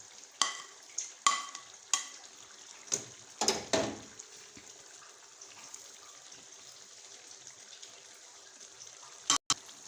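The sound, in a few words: stirring fried onions into fish biryani in a pan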